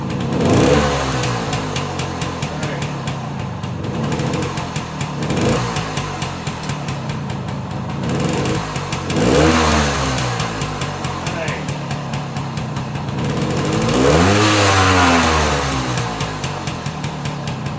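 A Suzuki K11 car engine runs with the choke partly on, a loud, steady close-up drone with rhythmic pulsing and a few swells as the revs rise and fall.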